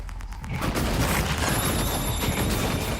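Glue cannon firing in the video game Prey (2017), a dense continuous burst of blasts and impacts that stays loud and close throughout with no pauses.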